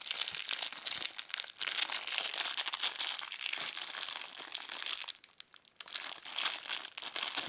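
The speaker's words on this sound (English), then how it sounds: "I'm struggling to open the packet here" A plastic packet holding a watch strap crinkles and crackles as it is handled and pulled at, close and continuous, with a brief quieter lull near the end before the rustling resumes.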